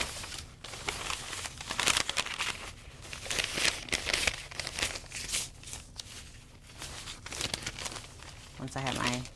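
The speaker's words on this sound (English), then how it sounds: "I'm going to place a sheet of protective paper on the inside on top of my Teflon pillow" A sheet of protective paper crinkles and rustles as it is handled and laid over a Teflon pillow on a heat press, steady close-up crumpling throughout with brief tearing-like scrapes.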